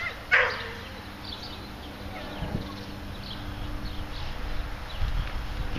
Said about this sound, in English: some dogs that like us as well